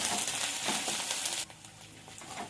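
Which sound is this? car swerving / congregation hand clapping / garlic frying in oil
garlic frying in oil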